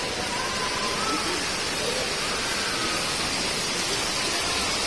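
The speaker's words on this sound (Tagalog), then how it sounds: "Lalo pa pong lumalakas yung ulan." Heavy rain pours steadily during a flood in the Philippines, a dense continuous hiss that fills the scene from start to finish with no break in its intensity.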